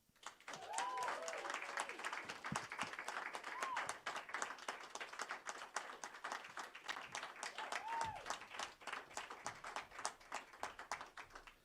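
Enthusiastic crowd applause and clapping welcoming an indie musician to a radio station lounge stage, sustained and dense with several whoops and cheers rising above it.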